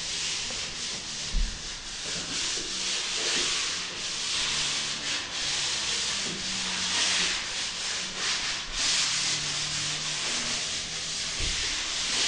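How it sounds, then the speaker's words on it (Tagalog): Fine sandpaper rubs over the finish of a wooden floor in a continuous, close, hissing scrape that carries on without pause, with a few faint knocks and no voices. "finish na lang po niyang lihain"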